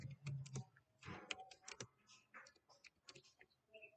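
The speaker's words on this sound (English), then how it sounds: "let's type in something simple" Someone types a short phrase into a translation app on a keyboard, producing quick, light key clicks in irregular bursts, close and fairly quiet, with no speech.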